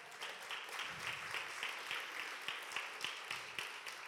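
A church congregation claps together, a faint, distant, even patter of many hands that keeps going for several seconds.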